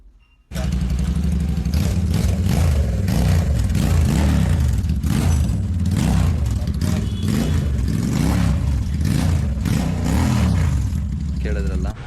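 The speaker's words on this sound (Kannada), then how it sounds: "ಕೇಳಿದ್ರಲ್ಲ ಎಕ್ಸಾಸ್ಟ್ ನೋಟ್ ಕ್ರೇಜಿ ಇತ್ತು, ರೈಟ್?" Royal Enfield Super Meteor 650 fitted with a KP Racing exhaust, revved up in repeated throttle blips over a loud, rumbling idle, close to the exhaust with no pauses.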